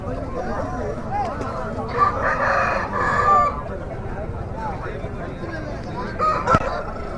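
A native rooster crows loudly and close by at the Nallapadu country chicken market, with clucking fowl and a steady babble of voices talking throughout.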